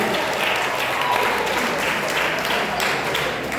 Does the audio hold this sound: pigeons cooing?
no